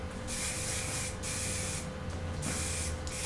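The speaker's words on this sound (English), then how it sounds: "And then with some hairspray." Hairspray hisses from an aerosol can onto styled hair in several close bursts of varying length, with short pauses between them, steady and fairly loud throughout.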